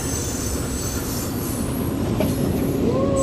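The Islamabad Express runs along the rail line with a continuous loud rumble of wheels on track, thin metallic squeals rising over it.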